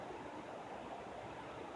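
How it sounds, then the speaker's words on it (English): The French Broad River near Hot Springs, North Carolina flows as a soft, even hiss of running water, faint and distant, continuous for the short stretch with no talk. "That's the French Broad River."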